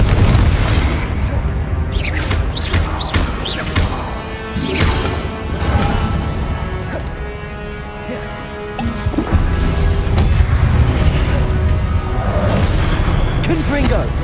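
Confringo blasting-spell explosions in Hogwarts Legacy during the Pensieve Guardian boss fight in Rackham's Trial, a series of loud booms and crackling bursts over rumbling combat noise, with a voice speaking in between.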